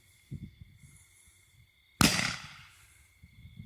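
A Caliber Fireworks 10-shot chrysanthemum Roman candle fires one loud, sharp outdoor pop, and a hissing burst trails off over the next second against quiet background noise.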